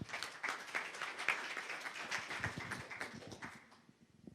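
Faint audience clapping in a conference hall as a talk speaker is welcomed: dense, irregular claps throughout that thin out and trail off near the end.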